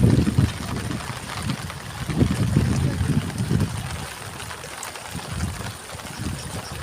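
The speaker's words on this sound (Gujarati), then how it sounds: "જો પાણીનો પ્રવાહ કેટલો તેજ છે" Fast-flowing floodwater rushes past a bridge on a river swollen by two days of rain, a continuous turbulent roar with surging bursts, fairly close and steady throughout.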